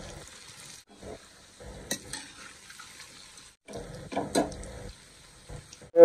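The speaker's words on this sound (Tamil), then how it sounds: "ஆயில் போட்டு ஃப்ரை பண்ணிக்கலாம்" Idli pieces dropped into hot oil in a pan, crackling sizzle in short bursts separated by near-silent gaps, with a few clinks of utensils.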